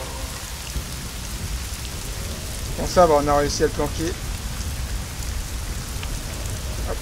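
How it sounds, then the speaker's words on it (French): Steady rain pours throughout a level of the video game Hitman Blood Money, a constant close wash of falling water while someone speaks briefly in the middle. "Là, c'est de la bonne pluie comme il faut."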